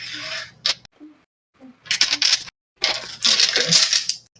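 Several bursts of plastic dice clattering and rattling across a table during a Werewolf: The Apocalypse tabletop roleplaying session, close and fairly loud, coming in three separate rolls with short gaps between them.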